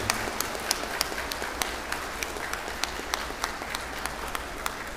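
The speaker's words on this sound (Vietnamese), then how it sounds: "chúng ta cho gia đình một tràng pháo tay thật lớn thật dài" Crowd at a Vietnamese Buddhist Quan Am ceremony gives a family a long, loud round of applause, thick continuous clapping with sharper individual claps popping out above the wash throughout.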